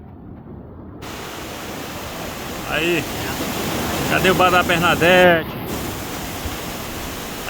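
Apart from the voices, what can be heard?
rain in Ceará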